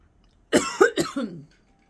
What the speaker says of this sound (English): I've been having a cough over the last couple of days.